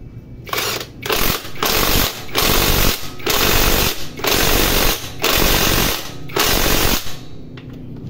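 An impact wrench hammers at the shock bolts on an XR150 motorcycle fitted with rebuilt XTZ shocks, firing in about seven loud rattling bursts separated by short pauses, with no talk.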